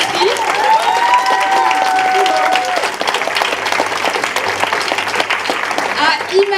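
A crowd giving loud, sustained applause at an amateur Christmas stage show, many hands clapping densely with whistles and cheers rising early on, the clapping swelling again toward the end.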